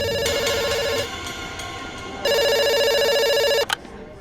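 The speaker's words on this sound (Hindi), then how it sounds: "फोन उठा के ऑर्डर लेना।" A telephone rings in two bursts of electronic trilling tones, loud and close, with a short pause between them before it cuts off.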